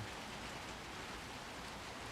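Steady rain falls in Little Nightmares 2, a soft, even hiss of dense drops heard alone and faint for a couple of seconds.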